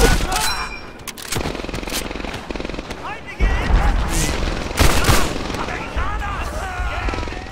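Rapid machine gun bursts rattle through a Medal of Honor battle in the Operation Neptune mission, loud and near, with short pauses between dense volleys and booming impacts.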